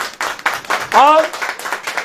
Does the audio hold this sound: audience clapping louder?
yes